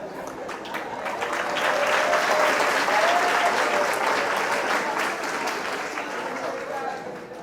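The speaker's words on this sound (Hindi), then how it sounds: "तालियां।" Sustained applause from an audience at a corporate talk, swelling over the first two seconds into a steady dense wash of clapping that fades slightly toward the end, with a few voices audible underneath.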